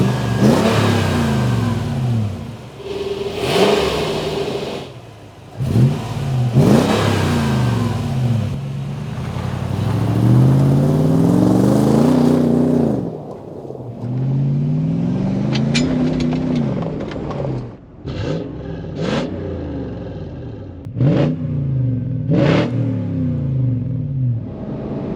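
An engine fitted with a Magnaflow Overland cat-back exhaust rumbles low and close, swelling in a few brief revs before settling back, with several sharp clicks and knocks near the end.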